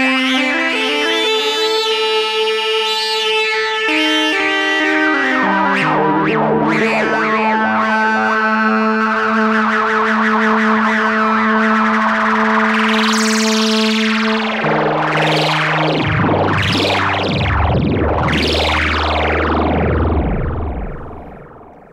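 Korg MS-20 synthesizer playing a sawtooth tone with the filter cranked up, loud bright buzzy notes stepping down in pitch, then sweeping resonant filter swoops rising and falling repeatedly until the sound cuts off.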